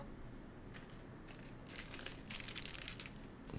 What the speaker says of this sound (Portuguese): ele pausou, amassou o plástico